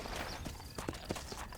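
Horse hooves clip-clopping in Red Dead Redemption, a quick run of close hoofbeats under a busy game soundscape.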